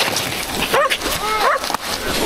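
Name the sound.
dogs barking in a video game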